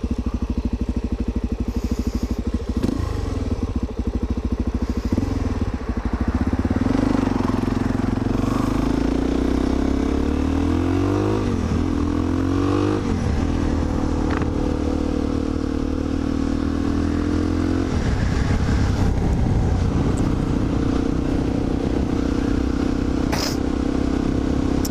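A motorcycle ridden on a Saturday morning commute to work, its engine droning steadily and loud throughout with rising and falling revs as it shifts and accelerates, plus wind buffeting and rattling clatter.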